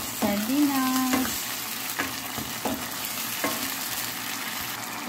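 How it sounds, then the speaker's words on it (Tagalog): Onion and garlic sautéing with sardines in a home pan, a steady close sizzle with a few scraping stirs and clinks of a utensil against the pan. "Inilagay ko na dito yung sibuyas at bawang. Ginigisa ko na."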